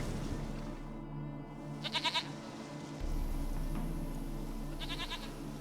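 Goat in The Witcher 3 gives two short wavering bleats, the first around two seconds and another near the end, over a quiet ambient background.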